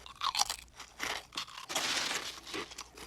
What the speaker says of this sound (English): midway through the credit scene, the music stops and it's just crunching.